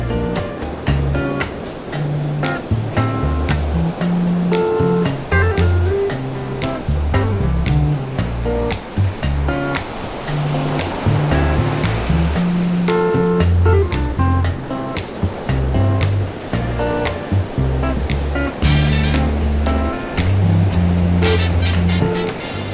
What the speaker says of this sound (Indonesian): Pantai Petanahan merupakan pantai dengan keindahan deburan ombak